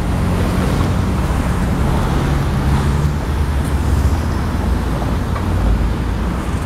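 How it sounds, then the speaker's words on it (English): Street traffic rolls northbound through an intersection on Vine, a loud continuous roadway rumble and wash of tire noise, near and steady, with no talking. "traffic is moving northbound on Vine"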